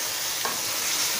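Spices stir-fried into a simmering curry (salan), a continuous broadband sizzle with a brief scrape of stirring, steady and close, with no voices.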